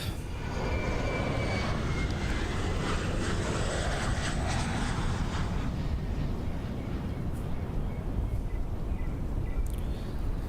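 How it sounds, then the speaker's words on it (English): Twin piston engines of a FlyingIron P-38L Lightning in Microsoft Flight Simulator 2024 drone loudly and steadily, a dense roar with wind noise that thins slightly toward the end. "The P38 Lightning is being flown. And this is the aircraft from FlyingIron Simulations."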